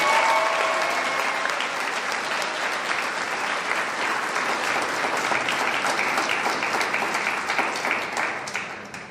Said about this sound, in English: I think we should give Yu Yang a round of applause